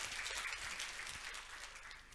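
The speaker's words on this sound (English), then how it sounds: "So maybe a round of applause really for all the efforts by the partners here." Steady applause from a tourism industry conference audience, a continuous wash of clapping that holds for a couple of seconds and eases slightly toward the end.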